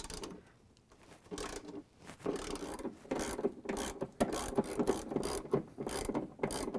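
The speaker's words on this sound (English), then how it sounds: "I'm using the 10 millimeters socket wrench" A 10 mm socket wrench ratchets out bolts on a Whirlpool/KitchenAid/Maytag washer gearcase, producing bursts of close, rapid clicking that quicken and grow louder as the strokes repeat.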